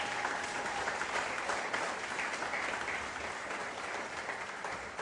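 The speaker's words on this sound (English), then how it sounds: "it's kind of a low clap" A large audience at a Labor Day political speech claps steadily, a dense, fairly subdued wash of applause holding at an even level throughout.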